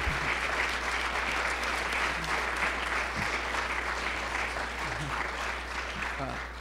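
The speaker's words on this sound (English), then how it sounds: "we should give another round of applause for the honoree" An audience at a bar association event applauds an honoree with sustained, dense clapping that stays steady and fairly loud for several seconds.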